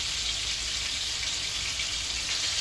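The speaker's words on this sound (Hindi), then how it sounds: "बस आपने इसको हल्की आंच पे इसको पकाना है। ये देखिए ये कबाब जब फ्राई हो जाएंगे तो आपने इसको पलट देना है" Beef seekh kebabs frying over low heat in a pan, a steady, even hiss and crackle of hot oil, close and continuous, with no voices.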